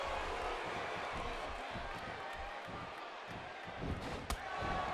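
A wrestling arena crowd in WWE 2K16 keeps up a steady, fairly distant roar, with a few thumps and a sharp slam near the end.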